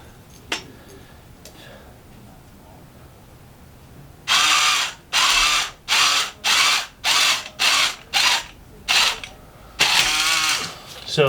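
An electric motor on a REV lift kit lowers the lift in a rapid series of short, loud whining bursts with brief gaps between them, following a quiet stretch, then a longer final run.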